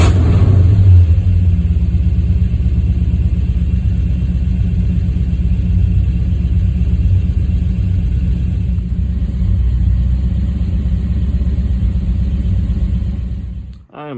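A 1963 Pontiac V8 with a suspected fuel pump problem runs steadily, a loud, close, continuous low rumble with slight rises in pitch, then cuts off abruptly at the end.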